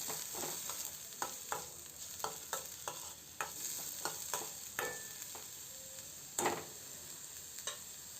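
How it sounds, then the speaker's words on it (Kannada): Spices for a pigeon pea curry tempering crackle and sizzle in hot oil, with irregular sharp pops and spatters over a soft frying hiss, fairly quiet and close. "ಸೊ ಹಾಗಾಗಿ ನಾನು ಕಾಳಿಗೆ ಒಗ್ಗರಣೆ ಹಾಕ್ತಾಯಿದ್ದೀನಿ"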